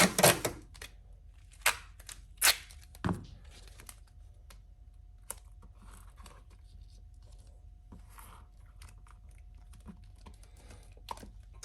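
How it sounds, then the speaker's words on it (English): Tape being torn and pressed over seams on an LSA supercharger intake before porting, heard as a few sharp crackling rips early on, then faint scattered clicks and rustles in a quiet room. "Just putting a little bit of extra tape on here to double up where these seams are"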